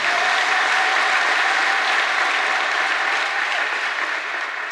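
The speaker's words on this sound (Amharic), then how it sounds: "እስቲ ለጌታ ክብር አጨብጭቡ።" A gospel church congregation applauds during a service: dense, sustained clapping from a large crowd that stays steady and loud for several seconds before easing slightly near the end.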